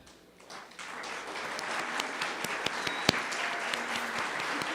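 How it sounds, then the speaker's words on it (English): Applause from an audience greeting the GYCC youth at an environmental youth leaders' summit in Bogotá, starting softly and building into a steady, moderately distant wash of many hands with a few sharper individual claps. "please greet them with a round of applause"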